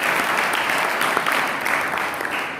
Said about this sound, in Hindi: आप ही लोगों को भी खुद ताली बजा के आप लोग धन्यवाद देते हैं।